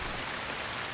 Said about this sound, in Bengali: খুব বৃষ্টি হচ্ছে